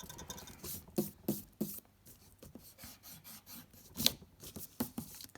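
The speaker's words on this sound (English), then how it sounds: "I'm just going to rub out that side because I made that a bit too small." A rubber eraser scrubs out part of a pencil drawing on paper in short, quiet rasping strokes with irregular gaps between them.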